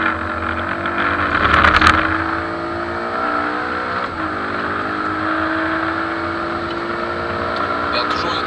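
A race car circuits the Castellet track at a Pirelli P Zero driving experience, its engine note climbing and dropping as it brakes and accelerates, heard from inside the car beneath steady instructor speech.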